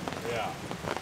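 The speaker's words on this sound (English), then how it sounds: "The rain's letting up a little bit." Heavy rain from a passing rainstorm at a camping spot beats densely and loudly on a surface, a steady close patter with no talk.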